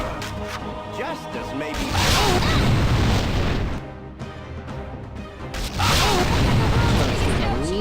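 Magic missile spell effects in the Baldur's Gate video game: booming, crashing impacts with whooshing bursts in two loud waves separated by a brief lull, layered over battle noise while a voice speaks briefly.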